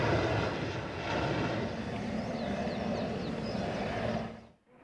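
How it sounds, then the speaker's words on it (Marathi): Rescue helicopter flying over flooded land: a steady, loud engine and rotor roar that holds throughout, then drops away abruptly at the end, with no talk. "आज बचाव कार्यासाठी हे हेलिकॉप्टर दाखल झाले"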